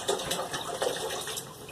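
Bottled filtered water poured steadily into a pot while making apple jelly, a continuous close gush and splash with slight surges, alone and without talk.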